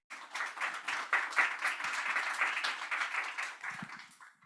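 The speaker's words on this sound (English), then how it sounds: "So, so can I ask you to give a round of applause?" An audience at a panel discussion applauds the panelists, a dense round of clapping that swells quickly, holds steady and loud, then tapers off near the end.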